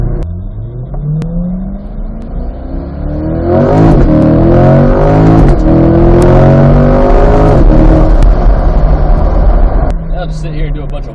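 A C8 Corvette pulls away hard, its engine revving up through first gear then dropping and climbing again on the 1-2 shift, loud and close from inside the cabin, with a person talking over it.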